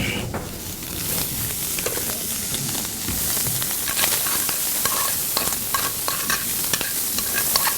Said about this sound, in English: So I'm going to throw those stems in there and let those cook with the sausage.